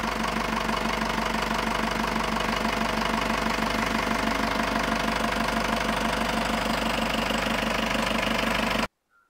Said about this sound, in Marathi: तुम्ही इंजिनचा साऊंड ऐकू शकताय.